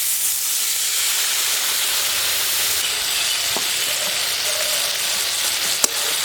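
Spice paste of red chilli powder frying in a pan for a village-style Bengali koi fish curry, with water splashed in: a steady broadband sizzle and hiss runs throughout, with a couple of sharp spoon taps near the end and no voices.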